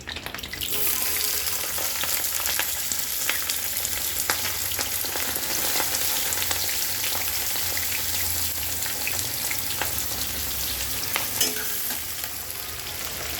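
Onions, along with chana dal, hit hot oil in a pan for capsicum vangibath, giving a loud, steady, close-up sizzle with faint scrapes of stirring and no talk.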